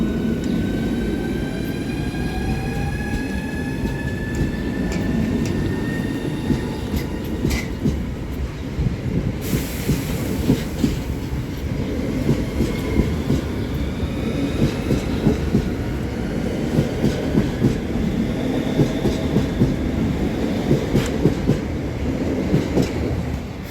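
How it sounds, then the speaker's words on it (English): A Class 395 high-speed train departs Rainham station in Kent on a London St Pancras to Ramsgate service, its steady rumble and clickety-clack of wheels on rails continuing throughout, with a rising motor whine and no talk. "This is the 1711 service to Ramsgate from London St Pancras and departing out now."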